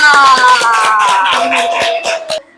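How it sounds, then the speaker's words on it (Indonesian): A room full of people claps in applause after a group presentation at a teacher certification performance exam, with dense steady clapping close and loud for over two seconds before stopping abruptly. "Tepuk tangan dulu dong."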